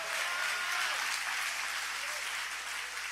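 Church congregation applauding during a worship service, a steady dense wash of clapping throughout, loud and sustained with little variation.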